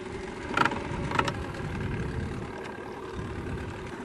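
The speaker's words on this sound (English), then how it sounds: "So hopefully the engine noise is not too much" A boat engine idles steadily in the background while ice fishing for lake trout, a continuous low rumble with two brief brighter knocks early on and no talk over it.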